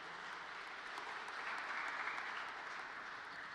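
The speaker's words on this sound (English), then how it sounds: "I wasn't expecting a lot of applause tonight" An audience at an awards dinner applauds in steady, continuous clapping from many hands, even and sustained, heard fairly faint and distant without speech.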